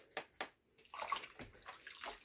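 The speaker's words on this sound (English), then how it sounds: "going to squeeze out all the excess water because you don't want a wet sponge" Water is squeezed out of a sponge during a vintage doll cleaning, two quick close splashes followed by a longer dribbling trickle and further drips, faint and with no talk.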